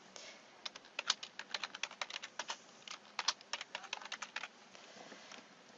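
Typing on a computer keyboard during NetSuite data entry, a quick irregular run of close, crisp key clicks with short pauses between bursts, heard alone with no talk.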